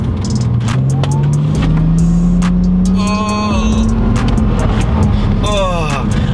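A Ford Falcon FPV Typhoon heard from the cabin under hard acceleration, its engine note climbing steadily and loudly before a brief gear change, while someone talks over the drone.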